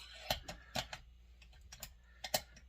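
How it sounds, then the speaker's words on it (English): Torque wrench clicking as bolts are tightened on a Zenoah-clone engine, a few sharp, distinct clicks spaced irregularly, close and fairly quiet with no talk. "Wait for the torque wrench to click."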